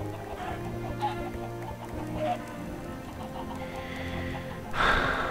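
A Minecraft chicken clucks in a few short, scattered bursts over a low hum of game sound, with the loudest cluck near the end and no talking.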